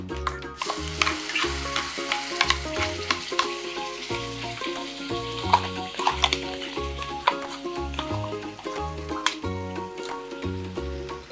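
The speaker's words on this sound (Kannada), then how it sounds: "ಈಗ ನಾನು ಗ್ರೈಂಡ್ ಮಾಡಿಟ್ಟಂತಹ ಈ ಚಟ್ನಿಯನ್ನು ಇದಕ್ಕೆ ಹಾಕ್ತಾ ಇದ್ದೇನೆ." Ground fenugreek chutney tipped into a hot tempering with a pinch of asafoetida sizzles steadily while a spoon scrapes and stirs the pan in a repeating rhythm, close and fairly loud throughout.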